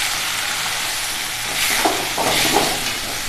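Tomatoes, cut lengthwise, frying in a pan with sautéed onions, giving a steady close sizzle with a few brief stirring scrapes.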